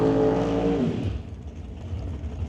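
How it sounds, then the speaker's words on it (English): A 1962 Chevrolet Bel Air drag race car backs up after a burnout at an NHRA Summit ET Series race. A loud engine drone with a dropping tone fades into a lower, rumbling idle, with no talk over it. "Backing up now from the burnout"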